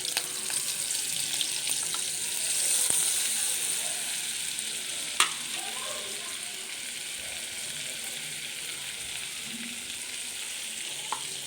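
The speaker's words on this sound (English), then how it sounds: "Four teaspoons of oil I have added. And 1 full teaspoon of butter I am adding in this." Butter melts into hot oil in a pan for paneer butter masala, giving a steady, even sizzle that swells slightly early on, with one sharp clink partway through; close and moderate, no talking.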